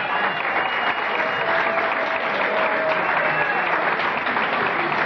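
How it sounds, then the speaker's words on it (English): Warm audience applause for a performer at a live show, a steady dense roar of clapping hands lasting several seconds at constant loudness, with no voices standing out. "Let's have a nice round of applause for Miss Terry D."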